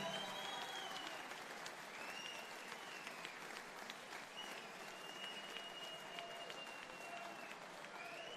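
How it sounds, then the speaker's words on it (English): Steady, continuous applause from a boxing crowd at Bolton honouring both fighters after the bout, a dense even wash of clapping held at constant level throughout with a faint crowd murmur beneath. "a round of applause for both guys"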